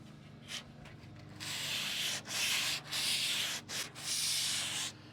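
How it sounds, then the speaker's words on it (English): Sandpaper rubs by hand over a farm truck's body panel, a series of close, soft scratchy strokes of varying length with short pauses between them. "Let the sandpaper do the work."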